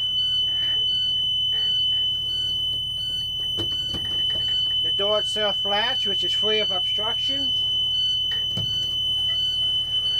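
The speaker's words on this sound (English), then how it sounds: "The alarm sounded." A rear exit door alarm, triggered by raising a red handle, sounds as a steady piercing high tone that holds for the whole stretch while someone talks over it and the door is pushed open.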